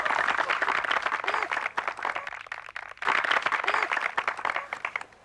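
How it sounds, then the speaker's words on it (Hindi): A studio audience bursts into applause during a comedy show, with two loud runs of dense clapping separated by a brief lull. "तालियां बजाइए।"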